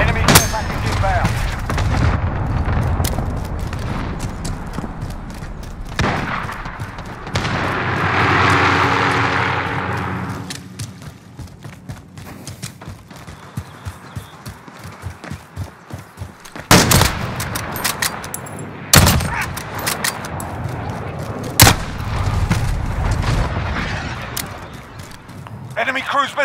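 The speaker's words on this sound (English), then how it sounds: "cluster strike incoming. Take cover." Explosions from a cluster strike and rolling gunfire in Call of Duty: Modern Warfare, with heavy booms, bursts of shots, a passing aircraft roar and sharp blasts, while voices call out over the battle.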